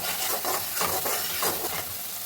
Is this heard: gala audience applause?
no